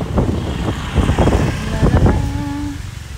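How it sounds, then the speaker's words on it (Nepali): Steady wind rushes and buffets the microphone, with a low engine hum rising briefly near the end. "कस्तो मिठो हावा आएको यहाँ"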